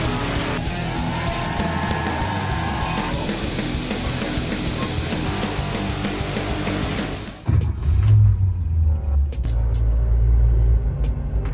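An old HT Holden station wagon drives on the road, its engine and tyres giving a loud continuous rumble that shifts abruptly to a deeper, heavier drone near the end.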